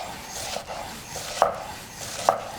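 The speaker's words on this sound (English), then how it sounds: "I'll cut vertically along the onion" A knife cuts an onion vertically on a board with close, soft slicing strokes and two sharper chops that land about a second apart.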